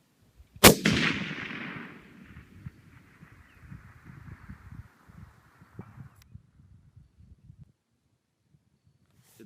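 A GA Precision PRS competition rifle chambered in 6mm Creedmoor fires one sharp, loud shot near the start, its blast ringing out and decaying over a couple of seconds, followed by faint outdoor rustling and small knocks.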